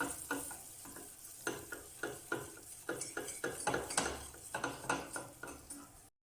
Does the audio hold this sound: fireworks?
no